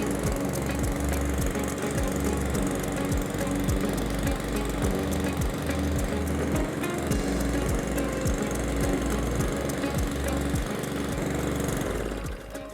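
A Cobra M51SPCVX petrol self-propelled lawn mower engine runs steadily and loud for the whole stretch, a continuous rattling drone with rhythmic pulses, alone without talk, then cuts off abruptly near the end.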